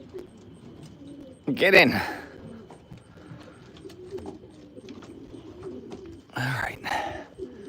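Racing pigeons at a home loft give soft, low coos beneath a man's brief spoken remarks, with a couple of louder bursts of nearby bird movement or calls.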